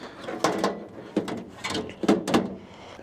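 Kitchen drawers in an Opus OP4 camper trailer's outdoor kitchen sliding open and shut, several short close clunks and rattles in a quick uneven sequence, near and fairly loud with no talk.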